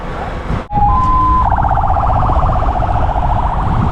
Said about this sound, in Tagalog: Oh, may ambulance na naman.